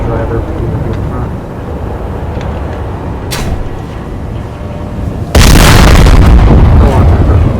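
A weapon in Space Engineers fires and blows up a tank: a sudden heavy boom erupts after several seconds of low rumbling background and roars on loudly to the end of the clip.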